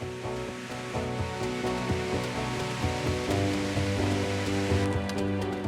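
A waterfall near a glacier in Alaska roars steadily and close, a dense unbroken rush of falling water with no break throughout.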